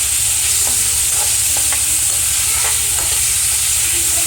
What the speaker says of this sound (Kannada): ಇದನ್ನು ಚೆನ್ನಾಗಿ ಫ್ರೈ ಮಾಡಿ, ಟೊಮೆಟೊ ಎಲ್ಲ ಸಾಫ್ಟ್ ಆಗುವವರೆಗೆ ಫ್ರೈ ಮಾಡಬೇಕಾಗ್ತದೆ.